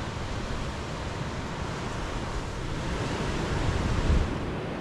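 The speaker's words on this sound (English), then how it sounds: "Waves are pumping." Ocean surf at Dominical, Costa Rica, with waves breaking in a steady, dense roar that swells slightly near the end, mixed with wind noise on the microphone; no one speaks.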